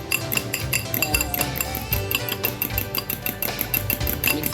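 A utensil beats a breakfast mixture in a bowl, rapid rhythmic clinking and tapping against the bowl repeating steadily and close, with a brief spoken word.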